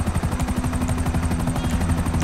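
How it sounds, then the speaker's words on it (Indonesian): A helicopter in the GTA 5 video game, its rotor beating in a fast, steady, loud thumping rhythm with a constant engine whine, close and uninterrupted. "Mana nih? Helikopter."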